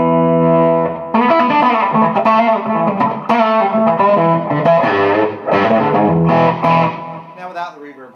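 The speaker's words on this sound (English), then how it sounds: "Now I'm going to show you my slap delay." Electric guitar plays a short phrase of chords and notes through a slap delay pedal, each one followed by a quick, tight echo that thickens the sound.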